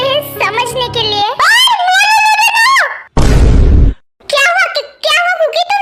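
A girl screams in high, wavering bursts that rise and fall, loud and close, broken by a short noisy rush and then more shrill cries with brief pauses between.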